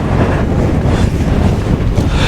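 Strong gusting wind buffets the microphone on an exposed mountain walk up Red Pike from Bleaberry Tarn near Buttermere, a loud continuous roar with uneven surges throughout and no voices.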